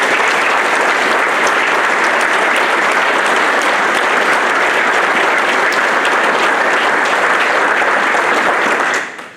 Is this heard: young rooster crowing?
no